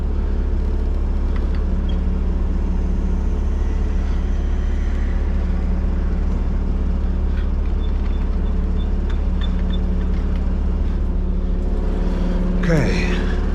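A feed truck unloads at a chicken farm with a loud, constant engine and pump drone throughout, joined by a brief rising whine near the end; a voice is faintly present under the rumble.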